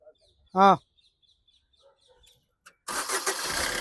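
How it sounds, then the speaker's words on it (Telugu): A short tone sounds, then a click, and the engine of a 2017 Maruti Suzuki S-Cross cranks and catches on a single crank, settling into a steady idle. "సింగిల్ సెల్ఫ్లో బండి స్టార్ట్ ఉంది, ఎటువంటి స్టార్టింగ్ ట్రబుల్ అయితే లేదు"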